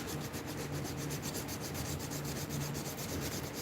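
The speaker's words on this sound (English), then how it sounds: "on the sand machine" A sanding machine grinds steadily against leather, producing a continuous, even rasping hum that stays loud and unbroken throughout with no voices.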